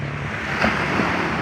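Choppy sea waves wash along a beach shore, a loud steady rush of surf mixed with gusting wind buffeting the microphone.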